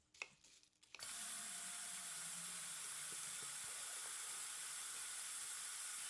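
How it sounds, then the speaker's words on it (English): A kitchen tap is turned on after a second of quiet handling noises, then water runs in a steady, even hiss into the sink, close and continuous until the end. "We turn on the water."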